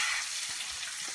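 Lemon rice mixture being stirred in a hot pan, a soft continuous sizzle with faint scraping of the spoon, brief and fairly quiet.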